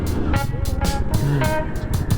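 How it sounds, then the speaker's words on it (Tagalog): A truck rolls past on a road in the Philippines at night, giving a loud, steady engine rumble and tire roar. Brief voices can be heard under it. "Nakakagulat naman tong truck na to."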